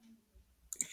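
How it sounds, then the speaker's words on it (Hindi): A single soft computer mouse click comes near the end of a quiet moment during a ReactJS coding tutorial, faint and very short. "क्लिक हो गया"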